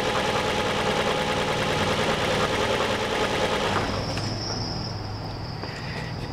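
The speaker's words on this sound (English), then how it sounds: "Now I'm going to shut the engine off." Car engine with a weak ignition coil running loud and steady with a knocking, uneven texture, then winding down and fading as it is switched off about two-thirds of the way through.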